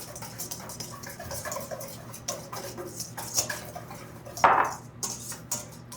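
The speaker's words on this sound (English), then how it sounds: "it's very easy to mix them with a whisk" A whisk clinks lightly against a bowl while mixing an almond flour mixture for clafoutis, a quiet irregular ticking and scraping with one sharper clatter near the end.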